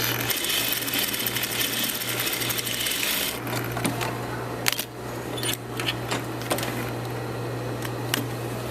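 A sewing machine stitches a lining and facing into a sleeveless garment with a steady close mechanical whir, backstitching, its pace changing partway through, with scattered sharp clicks and taps from handling the fabric and machine.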